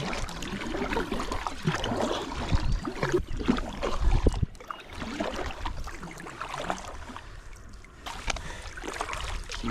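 A kayak paddled on open sea water on a calm morning, with close, steady splashing and gurgling from the paddle strokes and some knocks against the hull throughout, and no talking.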